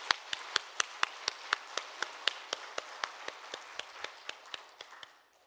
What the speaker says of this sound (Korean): 감사와 영광의 박수 올려드리도록 하겠습니다.